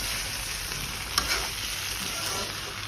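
Duck meat frying in a pan for an Assamese duck curry, a dense, steady sizzle heard up close, with one brief stir or scrape partway through and no voices.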